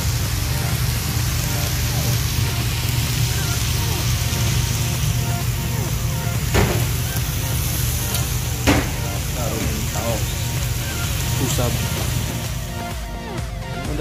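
Steady loud sizzle of food frying in a pan with soy sauce, pepper and spices as it is stirred, with a few sharp utensil knocks against the pan and a voice talking over the frying.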